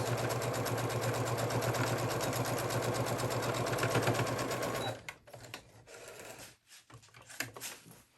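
A sewing machine stitches a dart in a basic blouse with a fast, even mechanical chatter for about five seconds, then stops, leaving soft handling rustles and light knocks.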